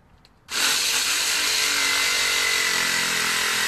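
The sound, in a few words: jigsaw cutting a pumpkin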